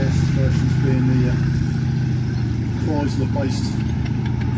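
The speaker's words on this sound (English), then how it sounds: "Chrysler-based multi-bank engine, which is effectively 5 6-cylinder side valve Chrysler engines on a common flywheel" A Chrysler-based multi-bank engine, made of five six-cylinder side-valve Chrysler engines on a common flywheel, runs at a steady low drone at a machinery show while someone talks close by.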